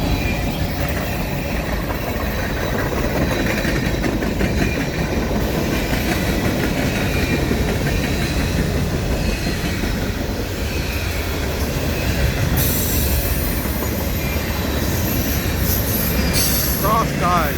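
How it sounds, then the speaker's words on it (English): A CSX manifest freight train led by four locomotives passes through morning fog, a loud continuous rumble of rolling wagons with wheel squeal and clickety-clack on the rails throughout. "3 locomotives. Four locomotives."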